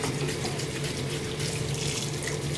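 Gunpla model parts are rinsed under a running tap: a steady, close stream of water splashes continuously into a sink with no break.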